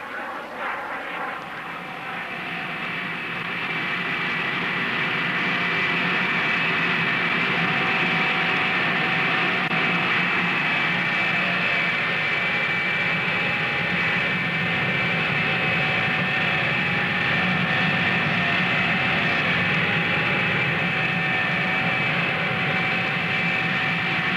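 Jet Provost jet training aircraft being readied for a flypast: a loud, steady engine roar with a high whine that swells in the first few seconds and then holds on, heard alone with no talk.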